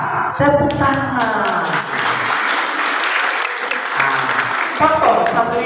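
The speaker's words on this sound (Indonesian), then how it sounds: "Tepuk tangan." Clapping breaks out at a church youth and women's group anniversary celebration, mixed with cheering voices and sung or shouted tones that rise and fall over the patter.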